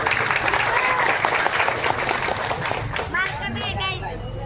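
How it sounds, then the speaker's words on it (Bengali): Audience applauding at a BNP political gathering: dense, steady clapping from a crowd, fairly close, with voices murmuring through it and a speaking voice emerging near the end. "আমার পক্ষ থেকে আপনাদের জন্য একটা হাততালি।"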